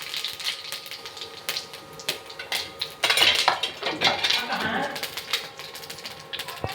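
Chicken curry is served from a pot onto a metal plate, with spoon and utensils clinking and scraping in quick bursts and a busier stretch midway, close by in a home kitchen.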